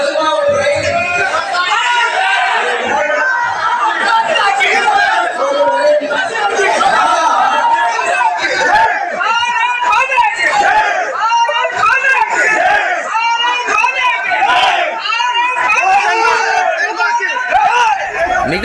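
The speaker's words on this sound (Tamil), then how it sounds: "ஒரு கட்டத்தில் பழனி மாணிக்கத்தை பேச விடாமல் பாஜகவினர் கூச்சல் போட்டதோடு நிகழ்ச்சியை விட்டு வெளிநடப்பும் செய்தனர்" BJP party members shout and jeer to drown out a speaker at a public event in Thanjavur, a loud continuous crowd clamour of overlapping voices and cries throughout.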